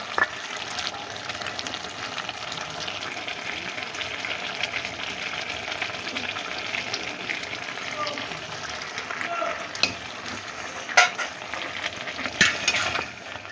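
Powdered panch phoron and fennel, dry-roasted and fried, being gently stirred into a pan of dudh sukto, a steady soft sizzle with light scraping running throughout, a few louder clinks near the end.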